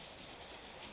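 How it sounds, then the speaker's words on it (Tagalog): Heavy rain pours steadily outside a house, a dense, continuous close hiss of drops on surfaces with no voices. "Ang lakas ng ulan dito."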